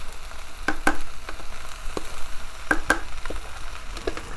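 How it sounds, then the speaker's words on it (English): Brown jasmine rice stir fried with tofu and Brussels sprouts sizzles steadily in the pan, with a few sharp clicks and scrapes of a utensil over the constant frying hiss. "We're gonna put the rice in now"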